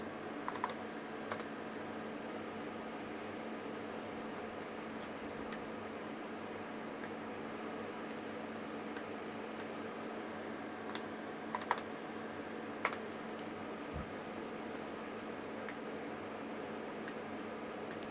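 Keys tapped on the Quantel DPB-7001 digital paint system's keyboard to enter values, a few scattered soft clicks over a steady hum of equipment fans, no talking.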